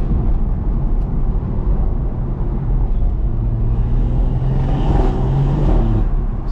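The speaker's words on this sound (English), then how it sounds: "Sound on this engine, my god." Engine of a 475 bhp BMW M140i Shadow Edition heard from inside while driving, a loud, deep continuous rumble that swells and climbs in pitch toward the end, with no talking.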